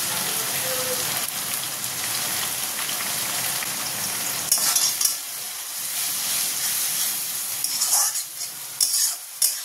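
Ginger, garlic and green chili paste fries in a hot pan with chicken, a steady loud sizzle and hiss running throughout, broken by a few sharper spatters and scraping stirs near the end.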